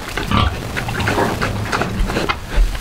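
A farrowing sow grunts repeatedly and close by in a farm setting, with low, rough snorts at an uneven rhythm and some background commotion.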